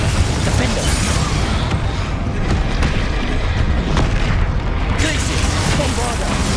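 Repeated Bombarda spell blasts in Hogwarts Legacy combat thunder through a dense, loud wash of booms and bursts that runs without a break.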